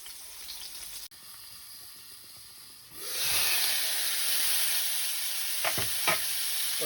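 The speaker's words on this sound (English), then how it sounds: "just to give them a quick sear before it goes into the oven" Moose kidney sears in a hot pan, batch-cooked before finishing in the oven: a quiet start, then a steady loud sizzle and hiss from about three seconds, with a couple of sharp crackles near the end and no talking.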